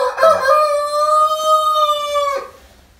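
A rooster in a breeding pen for pure-bred hens lets out one long, loud crow lasting over two seconds, close by, with faint clucking before it and no talk.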